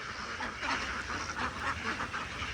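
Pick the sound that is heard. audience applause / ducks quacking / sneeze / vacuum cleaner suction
ducks quacking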